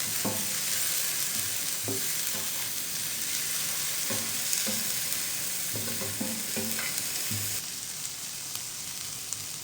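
Onion fries over medium-low heat in a pan for butter chicken, a loud, dense sizzle filling the whole stretch, with a spatula stirring in regular knocks and scrapes that ease slightly near the end.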